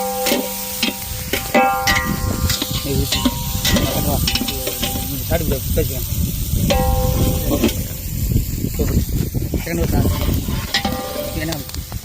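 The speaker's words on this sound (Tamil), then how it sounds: "தக்காளி வெங்காயம் நல்லா கிண்டிக்கலாம்" Onions and tomatoes for chicken biryani are stirred in a hot, sizzling pot, a ladle scraping and clanking steadily over continuous frying hiss, close and loud.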